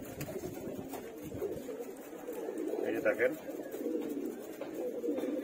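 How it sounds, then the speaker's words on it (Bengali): Female Jacobin pigeons in a fancy pigeon loft coo softly and continuously while someone talks nearby over them. "এই যে আমার বাম হাতে দেখতে পাচ্ছেন আরেকটা মাদি কবুতর।"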